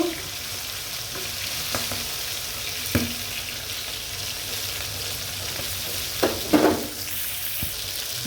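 Pieces of aair fish sizzle in oil in a pan, a steady bright frying hiss with occasional clinks and stirring sounds, close and without talk.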